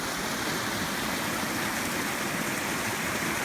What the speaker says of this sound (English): I think you can hear the water.